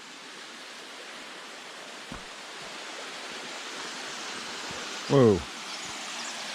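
Mima Falls, a small low-flow waterfall in Capital State Forest in June, gives a steady broadband rush of falling water throughout, with a brief spoken exclamation over it near the end.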